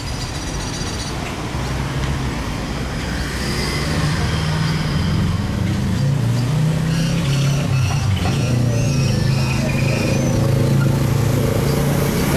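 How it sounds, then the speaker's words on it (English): Street traffic in Antiguo Cuscatlan, El Salvador, with a steady stream of cars passing close by, engine hums rising and fading one after another under constant road noise, with no talk. "A lot of cars coming by."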